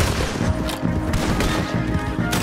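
Rapid gunfire in the video game Red Dead Redemption 2, a dense fusillade of loud, overlapping shots and booms packed tightly across a couple of seconds.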